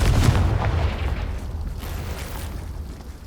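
A Confringo fire spell detonates in Hogwarts Legacy, a loud booming blast at the start that rumbles and slowly fades over a few seconds.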